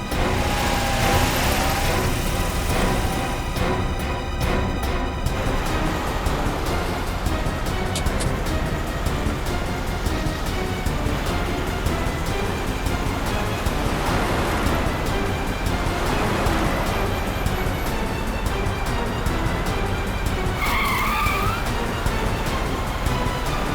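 A car races fast and skids in a TV crime drama chase near the sea, a continuous loud roaring rush of engine and wind with surging, rough texture and no clear voices.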